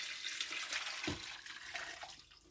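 Broth is poured into a pot of pig's trotter stew, a soft continuous splashing and trickling of liquid heard close and fairly quiet, with no talking.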